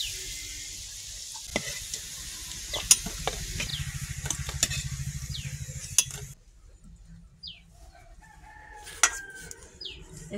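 Food frying in a pan and turned with a metal spatula instead of a strainer, with sizzling and scraping stirs over several seconds; a rooster crows faintly in the background and the sizzle drops away partway through.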